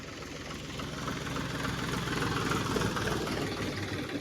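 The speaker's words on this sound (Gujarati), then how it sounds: "આ લોડર ઉપડ્યો હવે." A loader's heavy diesel engine rumbles as it moves off, a steady low drone that swells slightly and holds fairly close, with no one talking.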